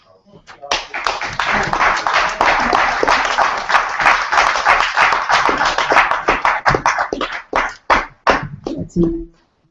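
An audience applauds at a hip-hop town hall event. The clapping is dense and loud for several seconds, then thins into scattered individual claps as it dies away.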